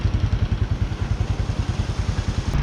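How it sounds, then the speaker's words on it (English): A rental scooter engine putters steadily with a rapid, even pulsing rhythm, close and moderately loud, with no voices, in the Philippines. "We have ourselves another scooter rental."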